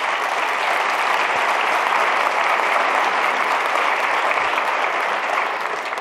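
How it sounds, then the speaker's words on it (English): A round of applause from a conference audience at an investigative journalism event, dense and sustained clapping at an even loudness throughout. "I really think that they deserve a round of applause"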